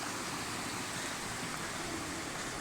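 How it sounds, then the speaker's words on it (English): River running fast near a large waterfall after a storm, a constant broadband rushing noise at moderate level, unbroken and without speech. "Sorry for the noise, it's the river."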